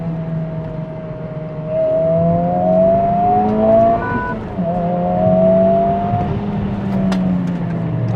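A 2023 Honda Civic Type R FL5 engine climbs in pitch, drops briefly, then rises again as the revs flare on a downshift, loud and steady from inside the cabin with no talking.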